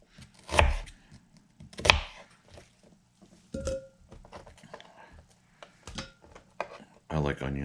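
Beef for a slow-cooker stew is cut into pieces with a knife, giving a few separate thunks on a board. A voice talks between the cuts, and a busier burst of sound comes at the end.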